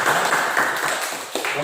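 A classroom gives a short round of applause for a group of students, with dense, steady clapping from many hands filling the brief moment.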